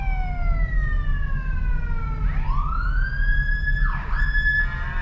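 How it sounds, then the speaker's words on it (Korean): Wailing emergency siren of an ambulance at a highway accident, its pitch sweeping up and down and rising as the vehicle draws near, loud over steady traffic rumble. "구급차 오고 난리"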